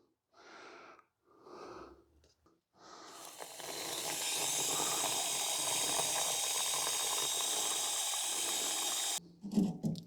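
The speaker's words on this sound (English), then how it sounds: "Now we fill this cup up with water." Water from a tap pouring steadily into a cup for a strawberry runner nursery, a continuous hissing stream lasting several seconds after some short breathy noises, then stopping abruptly.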